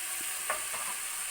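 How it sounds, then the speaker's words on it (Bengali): Water spinach (kolmi shak) being stirred and fried in hot oil in a wok, a steady soft sizzle with a few light scraping stir sounds, close and alone without any talk. "শাকটাকে একটু ভালো করে নেড়ে নেব কড়ার মধ্যে, ভালো করে যাতে সব শাকটা তেলের মধ্যে ভাজা হয়ে যায়"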